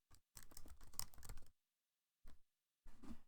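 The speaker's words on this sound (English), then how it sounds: "So you just type that in." Close, quiet typing of a company name on a computer keyboard: a rapid burst of key clicks, then a pause and two shorter flurries of keystrokes.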